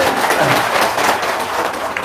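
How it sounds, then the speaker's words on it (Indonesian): Brief burst of audience clapping during a testimonial gathering, dense and fairly loud, filling about two seconds with a muffled, crowded texture. "Tepuk tangan."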